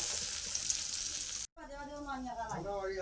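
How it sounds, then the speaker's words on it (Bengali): Stuffed pointed gourd (kakrol) drops into a little hot oil in a pan: a steady bright sizzle, then a brief silent cut, followed by crackling frying with faint tonal squeals underneath. "তারপর আমি কড়াইতে অল্প তেল দিয়েছি, ও তেলের মধ্যে এই তারপরে পুরটা ছেড়ে দেব।"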